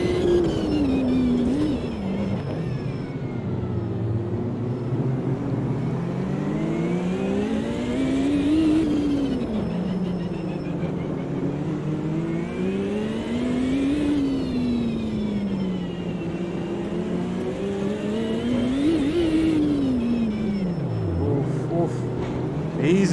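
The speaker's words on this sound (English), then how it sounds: "hear them turbos whine" Turbocharged race car engine in the Automobilista 2 racing game, revving up and down in rising and falling sweeps with a faint high turbo whine, continuous and loud throughout, with a voice talking over it.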